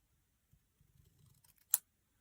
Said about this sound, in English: I might snip the end of that off just a little bit so that it's dead center